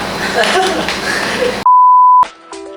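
An air fryer gives one sharp electronic beep while its temperature and timer are set, loud and clean after a stretch of background kitchen noise, followed by fainter tones.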